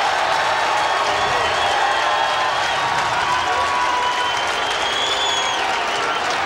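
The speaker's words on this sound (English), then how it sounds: "and listen to the crowd" A stadium crowd at a 1989 Syracuse vs. UMass college lacrosse game roars and cheers continuously, a dense, steady wall of noise with no pauses throughout.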